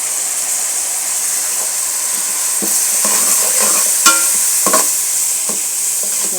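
Fish curry of rohu stirred in a pan with turmeric frying, a steady loud sizzle and hiss with scattered scraping clinks of the spoon against the pan over several seconds, no talking.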